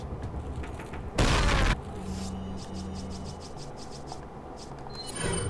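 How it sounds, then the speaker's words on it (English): A grenade thrown in the Resident Evil 4 video game goes off in one loud, short broadband blast, then gives way to quieter mechanical game ambience with a run of rhythmic clicks. "So what I'm going to do first is throw my nade."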